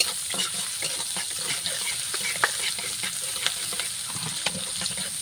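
Hot oil sizzles and bubbles steadily in a pan while onions fry, with small crackles and spatters popping through the constant hiss.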